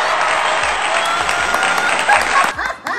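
A few people clap briefly indoors during a rowdy games night, quick close clapping that stops near the end, followed by talk.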